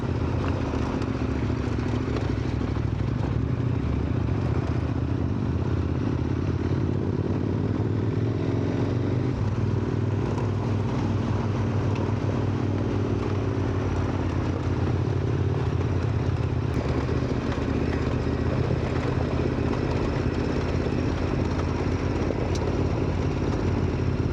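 A motorcycle engine runs steadily on a mountain pass ride in the Bolkar range of the Taurus Mountains, with throttle rising and falling. The rumble is continuous, close and fairly loud throughout, with wind noise and no clear talk.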